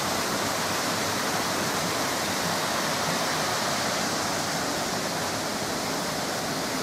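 Rain-fed water pours over the top of a Shropshire waterfall near sluice gates, making a loud, unbroken rushing roar heard from close by.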